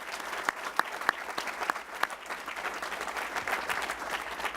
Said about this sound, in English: I'd like to start with just a round of applause for all of the startups that presented today.